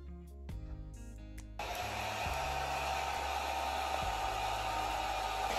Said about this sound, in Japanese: ドライヤーで乾かすって。